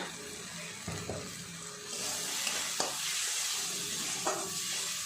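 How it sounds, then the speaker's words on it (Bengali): Ground coriander, turmeric and chili powder with salt being stir-fried in a pan for a stuffed-tomato prawn curry, a soft sizzle that rises midway, with a few scraping spatula taps, moderately close. "খুব ভালো করে বা মশলাটাকে কষিয়ে নিতে হবে"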